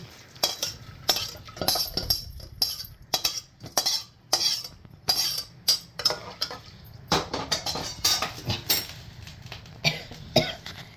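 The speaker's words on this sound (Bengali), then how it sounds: "এবারে আমি এতে ডালটা দিয়ে দিচ্ছি।" Urad dal goes into a pressure cooker of hot water, heard as close, uneven clatter of a metal pot and utensils with clinks and knocks, plus a few coughs; quiet overall, no talking.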